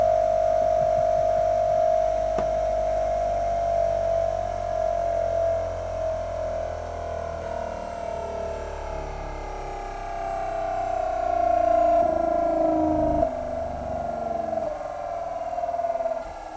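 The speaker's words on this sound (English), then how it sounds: "The motor speed has reached the rated speed. Now it's inertially rotating." An electric train traction motor spins down on its own after reaching rated speed, a steady tonal hum with faint gliding overtones, loud and close, with no voices.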